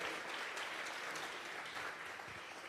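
A church congregation claps together during a vigil service, a sustained dense patter of many hands at close range without a break.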